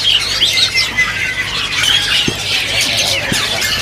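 Songbirds in a bird shop give a busy mix of high chirps, squeals and squawks, with a few sharp calls standing out close by.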